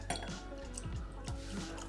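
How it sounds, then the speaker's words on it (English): Bourbon pouring into a glass, a close liquid glug and drip with faint clinks of glassware, steady and uninterrupted, with no talking. "A fine pour, young man."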